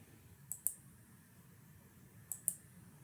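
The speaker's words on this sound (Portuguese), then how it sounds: "Vou clicar aqui." Two quick pairs of computer mouse clicks, about two seconds apart, crisp and close against a quiet room hum during a PHP programming lesson.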